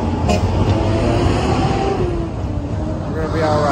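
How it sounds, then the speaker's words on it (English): A bus engine drones steadily from inside the moving vehicle, with a broad, constant road rumble and people talking over it. "It's one of them crazy buses."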